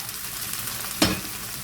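Pasta water poured into a pan of very thick coconut milk sauce with tomato puree gives a single sudden sizzling splash over a low steady simmer, close and brief.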